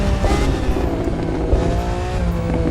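Lamborghini Aventador LP700-4 engine in The Crew 2 racing game, a continuous loud revving drone with shifting pitch and faint tire noise, no talking.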